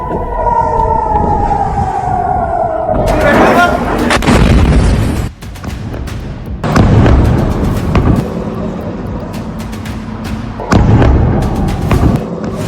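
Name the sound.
Iranian missile strikes and explosions in Tel Aviv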